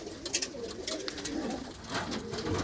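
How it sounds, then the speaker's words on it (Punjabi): Pigeons of desi and other breeds in a coop coo softly and repeatedly, their low throaty calls overlapping at close range against a faint background rustle. "ਇਹਦੇ ਵਿੱਚ ਦੇਖੋ ਕਬੂਤਰ"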